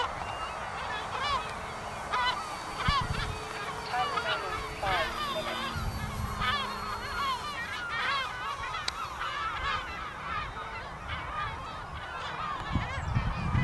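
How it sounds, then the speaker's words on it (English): Seagulls call repeatedly at a model aircraft flying field, with many overlapping squawks and cries at moderate distance over outdoor wind noise. "Lots of seagulls today at our field."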